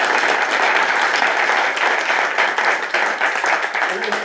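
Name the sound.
applause for school rock band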